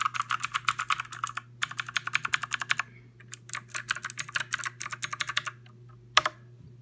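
Fast typing on a cheap $15 mechanical keyboard: clicky keystrokes in quick bursts with a few short pauses, close and clear over a faint steady hum, ending on one sharp key hit.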